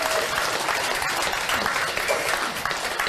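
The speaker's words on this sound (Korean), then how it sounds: "큰 박수로 화답해 주십시오" An audience at a Korean political policy-signing ceremony breaks into dense, sustained applause, loud and even from start to finish, with no speech over it.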